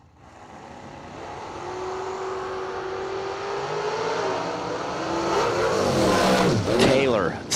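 A Camaro Roadster revs and launches at a drag racing event, its engine building from a muffled drone to a louder rising roar while an announcer talks over it.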